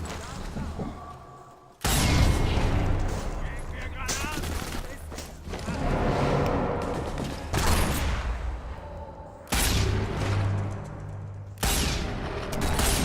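Explosions and gunfire in the World War II sniper video game Sniper Elite 4: repeated loud booming blasts and bursts of shots arriving every couple of seconds, with someone talking excitedly over the action.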